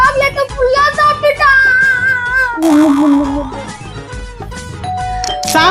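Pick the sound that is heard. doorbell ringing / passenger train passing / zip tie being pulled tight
doorbell ringing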